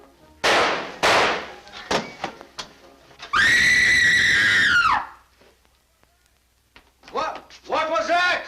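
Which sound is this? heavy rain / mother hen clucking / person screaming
person screaming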